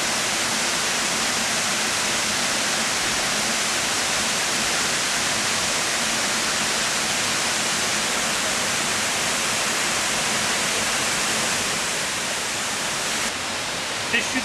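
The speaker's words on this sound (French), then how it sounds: "Des chutes d'eau, ici des chutes d'eau, il y en a partout." Waterfalls in Thailand roar with a dense, constant rush of falling water, loud and unbroken from start to end, the nearby torrent drowning out any other detail.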